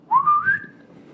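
A person whistles once in imitation of a whistle, a short rising tone that slides upward and fades, close and clear with nothing else sounding.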